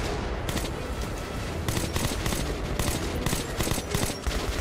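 Sustained rapid gunfire from the shooter Metro Last Light Redux, aimed at a large creature's red leg, crackles in dense bursts with brief gaps between them, loud and close the whole way through.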